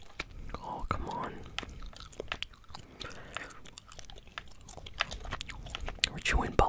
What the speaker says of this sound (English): We're chewing bubblegum